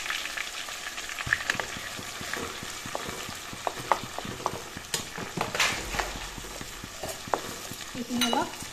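Chicken frying in a pan with ginger, garlic and chilli paste, steady sizzling under repeated scraping strokes of a stirring spoon, close and continuous.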